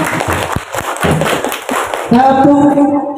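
Children in an Islamic school class perform the rhythmic "tepuk surga" clapping chant. Sharp, patterned hand claps and thumps sound alongside chanting voices, and a spoken voice takes over near the end.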